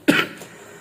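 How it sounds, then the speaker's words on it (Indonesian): A single short, harsh cough from a man sounds close and fairly loud, followed by a faint trailing breath. "Ini saya lagi batuk ya kawan ya."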